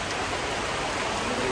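Heavy rain pours outdoors in Arunachal Pradesh, northeast India, a loud, steady, dense hiss of falling water with no voices.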